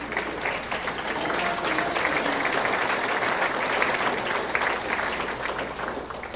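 Steady, dense applause from a hall-of-fame bowling banquet audience, filling the room at an even level from start to finish, with no voices standing out above it.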